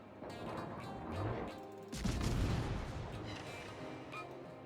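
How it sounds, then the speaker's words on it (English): Salvo fire from a Tier X Commonwealth cruiser, HMAS Brisbane, in World of Warships: a heavy booming blast surges up, followed by a rolling, rumbling roar of gunfire and mechanical clatter that fades gradually, with no voices. "if I double click, it's salvo fire"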